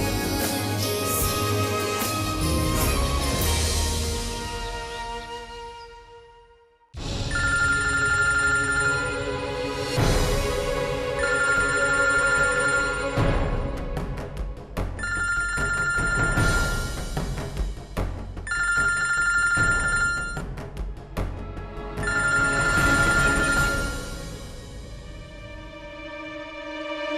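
A telephone rings in a household scene from a TV episode, with repeated electronic ringtone bursts in a steady pattern after a brief silence, loud and alone with background music earlier.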